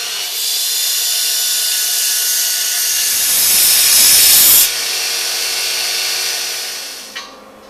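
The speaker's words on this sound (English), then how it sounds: "we'll just take a minute to chamfer these edges" A power tool hisses steadily while chamfering the edges of a log for a log light, rising to a brighter, harsher whine midway before settling back, then cutting off with a small knock.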